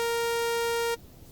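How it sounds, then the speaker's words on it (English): A single bright, buzzy synthesizer sawtooth-wave tone from an FM synth demonstration, held steady and loud for about a second before cutting off abruptly into near silence. "This is a sawtooth waveform"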